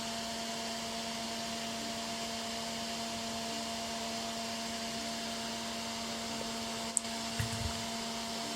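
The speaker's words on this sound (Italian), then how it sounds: "Vediamo se si vede il ventilatore che porta via i fumi." A small fan in a soldering fume extractor runs at an electronics bench, giving a steady, even whirring hum with a faint tonal drone that continues without change, and a brief click near the end.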